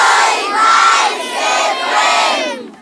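Young children cheer and shout together as a loud, excited crowd in a radio studio, with voices swelling in waves for nearly three seconds before cutting off abruptly.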